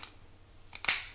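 Kitchen scissors trim fins off a trout, making a few sharp snipping cuts near the end, the last one loudest and crisp, with no talking.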